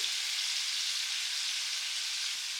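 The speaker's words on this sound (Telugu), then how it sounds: "అటు సైడ్ కూడా బ్రౌన్ కలర్గా ఫ్రై చేసుకోండి." Lemon pepper chicken pieces fry in a pan over low to medium flame, giving a steady, close hiss and sizzle of hot oil that continues without pause.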